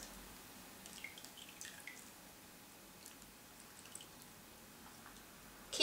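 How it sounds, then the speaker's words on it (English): Soft drips and wet squishing sounds scattered over a quiet background, as a braided rope soaked with dye is lifted and lowered in water. "Keep dipping it into the water"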